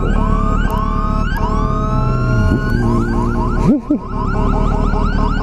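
An ambulance siren wails loudly in rising, repeating sweeps, passing close by amid traffic noise.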